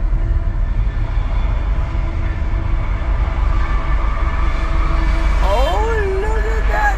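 A train rumbles steadily nearby, broadband and continuous, near Burbank Airport, with rising and falling tonal squeals emerging near the end; faint voices sound beneath it.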